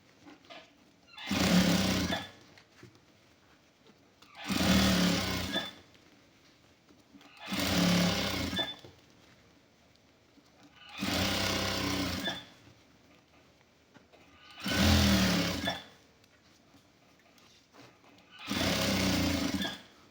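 A sewing machine stitching around the edge of a shirt collar runs in six even bursts of about two seconds each, with short quiet pauses between them and no speech.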